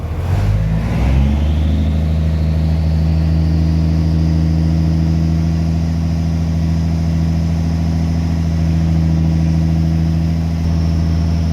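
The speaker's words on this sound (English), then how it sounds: "just give it some revs and get the compressor working" A Peterbilt 352 truck engine revs up hard in the first second to build air pressure, then holds a loud, steady high-revving drone for the rest of the clip, close by.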